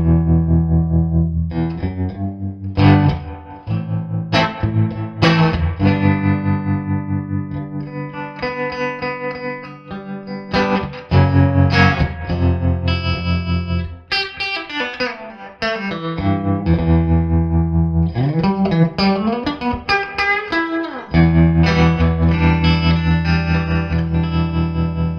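Electric guitar through a Bartel Roseland amplifier with tremolo switched on, with loud pulsing chords and single-note phrases that throb rhythmically and ring out with roomy reverb, and no talking.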